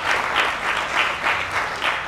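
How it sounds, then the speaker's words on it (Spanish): An audience applauds a pair of performers at a chemistry-themed comedy show, steady clapping that swells and dips in rhythmic waves and stays loud and close throughout, with no speech over it. "quería felicitarlos y pedirles que los aplaudan a Ana y a Juan Pablo"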